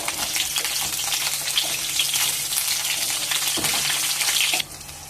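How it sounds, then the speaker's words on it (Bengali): Eggplant frying in a pan of oil with bay leaf and panch phoron gives a loud, steady sizzling hiss with small crackles, close up, dropping quieter for the final half second. "একটু হালকা করে বেগুনটা ভেজে নেব"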